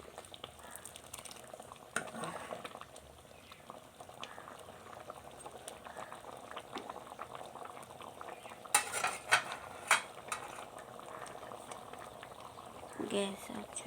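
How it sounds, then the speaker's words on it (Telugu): Tempered lentil dal bubbles in a pot on a gas stove, a soft continuous simmer with a few louder metallic clinks and utensil knocks near the end. "పప్పు తాలింపు వేసినాక ఇలా ఒక ఉడుకు రానివ్వండి"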